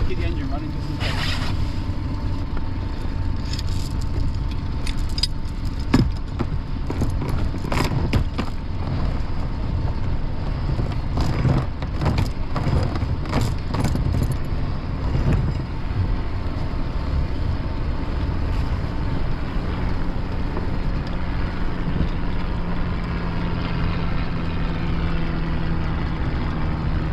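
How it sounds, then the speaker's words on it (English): A small inflatable fishing boat sits anchored in the Solent with its outboard engine left idling, a steady low drone under wind buffeting the microphone and occasional voices. "Keep the engine running just in case."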